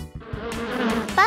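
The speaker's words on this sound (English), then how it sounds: "A bee makes a buzz sound." A bee buzzes briefly and steadily, close and clear, lasting about a second.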